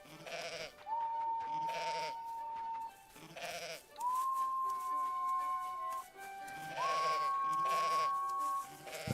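Goats in the video game Mai Child of Ages bleat repeatedly in short, evenly spaced bursts, several cries in turn over a soft, sustained musical tone that rises and holds between calls.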